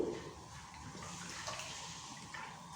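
Water is poured into a cooking pot of rice and vegetables for a one-pot meal, a steady close splashing and trickling that runs continuously and fairly softly.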